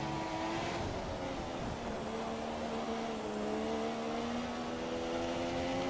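F1 car in the F1 2017 video game under throttle on a wet track, engine holding a steady, slowly rising tone for several seconds, continuous and fairly loud with a faint rushing spray behind it.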